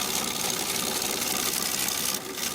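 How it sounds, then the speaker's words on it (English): A wood lathe gouge cuts into a wing of a punky pine bowl being turned into a rustic fruit bowl, giving a steady, close, continuous hissing shear with an even whirring drone throughout, easing slightly near the end. "this will be the last cut I do with this gouge on this wing"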